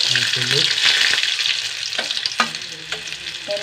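Shallots, garlic and asafoetida fry in a pan for a curry, a bright continuous sizzle with occasional scrapes and stirring knocks, close and steady.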